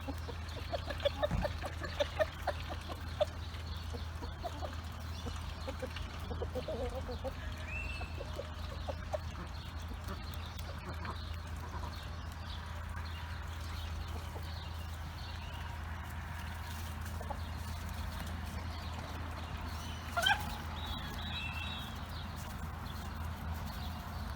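Chickens cluck softly now and then in a quiet outdoor setting, with scattered light knocks and faint distant sounds under a low steady hum.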